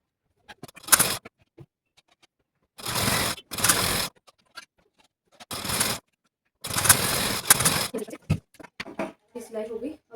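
A sewing machine stitches fabric in several short, loud runs separated by pauses of near silence, with a few quieter clicks and handling sounds toward the end.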